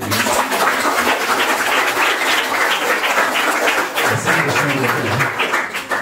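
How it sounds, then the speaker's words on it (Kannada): Audience at a lamp-lighting ceremony and inspirational talk breaks into loud, dense applause, a continuous close wash of many hands clapping together that stays strong throughout with some faint voices mixed in. "ಚಪ್ಪಾಳೆ ಹೊಡೀರಿ"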